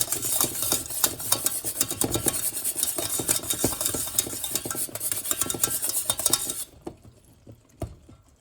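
A spoon scrapes and clatters around a pan of foamy nut butter crunch, busy irregular stirring with faint sizzling, then it stops and only a few soft knocks remain.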